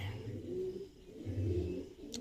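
A Madrasi pigeon held in the hand gives low, soft repeated coos in two rounded bursts, close and fairly quiet, with a faint high sound at the very end and no talk.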